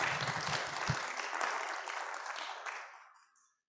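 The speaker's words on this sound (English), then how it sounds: "I wanted to give a round of applause to our speaker, Rana, there." Thanks from a Café Sci audience at a talk on engineering in medical training and research, with moderate, fairly quiet clapping that thins out and fades to silence after about three seconds.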